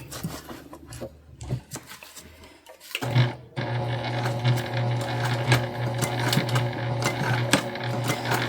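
A sewing machine runs a top stitch on a bum bag, first in short stop-start bursts, then in a long, steady whirring run with rhythmic needle ticks, close and clear.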